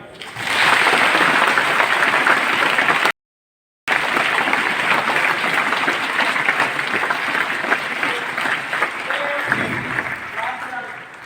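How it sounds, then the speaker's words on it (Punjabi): Sustained applause from a crowd at an outdoor street play by students fills the clip, with a brief silent gap partway through, then continued clapping and some voices toward the end. "ਉਹ ਇੱਕ ਵਾਰੀ ਤਾੜੀ ਮਾਰੇ"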